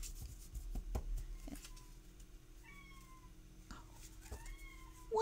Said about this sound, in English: He has this really high squeaky meow.